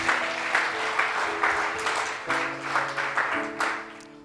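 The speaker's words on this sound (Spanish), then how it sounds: "Dele palmas al Rey de la gloria en esta hora." A church congregation claps steadily through a service, a dense run of rhythmic hand claps over sustained organ or keyboard chords, fairly close and loud.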